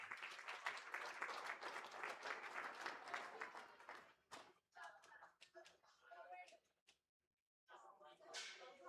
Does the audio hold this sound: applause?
yes